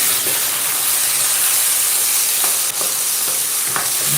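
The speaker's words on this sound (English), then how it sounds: "now we're gonna stir it" Curry rice with vegetables hisses and sizzles loudly in a pan as it is stirred, a constant close frying roar with a few faint scrapes of the spoon.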